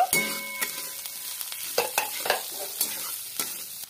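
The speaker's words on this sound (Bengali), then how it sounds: "বিনসগুলো একটু নাড়িয়ে চাড়িয়ে নেব।" Chopped beans and onion fry in a pan while a utensil stirs them, producing repeated scraping clicks over a light, continuous sizzle.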